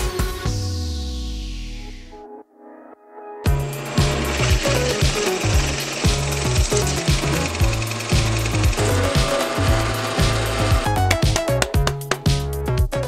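A Forstner bit bores into wood for a Jedi medical droid cosplay build, a steady loud grinding whir with chattering pulses running continuously after a brief pause.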